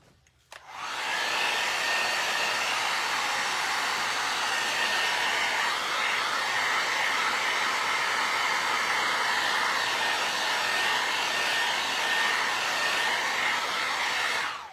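A hair dryer switches on and blows steadily at close range for a long stretch, drying Fusion Mineral Paint on a craft sign, with a constant whooshing hiss and no speech.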